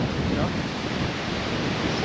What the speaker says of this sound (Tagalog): Lakas lang ng hangin eh.